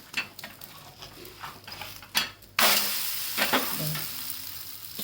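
A wheat flour and egg paratha in a pan: soft scraping and crackling at first, then a sudden loud burst of sizzling as it is flipped, which settles into a steady fry.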